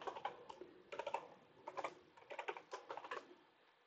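Rapid bursts of typing on a computer keyboard while entering an admin password during a phpIPAM setup, with clustered clicky keystrokes in quick runs separated by brief pauses, close and fairly quiet.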